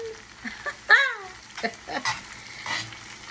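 Lemon juice sauce sizzles in a pan in a quiet, steady hiss broken by a few sharp clinks and scrapes of stirring, close by and with no talk.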